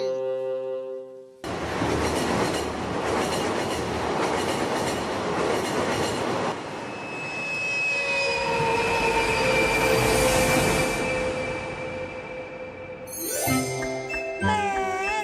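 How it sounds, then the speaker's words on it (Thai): A train runs on rails in a Doraemon cartoon: a loud, continuous rolling rumble with rising metallic wheel squeals, before it cuts off abruptly into brief cartoon tones at the end. "โดราเอมอนตอนเปลี่ยนบ้านเป็นรถไฟเที่ยวดึก"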